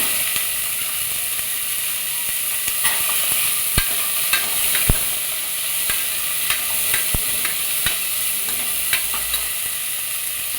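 Mixed vegetables (beans, carrot and potato) stirred in a hot pan for sambar, a steady sizzle with scraping clicks of the spoon against the pan at irregular moments, close and fairly loud without talk.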